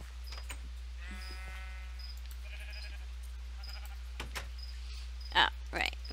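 Sheep bleating in the video game ZooCrafting: a few harmonic bleats in the first seconds, moderately loud over a steady low hum, followed by brief clicks and a louder burst near the end.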